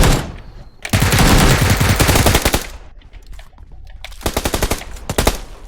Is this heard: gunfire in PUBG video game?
yes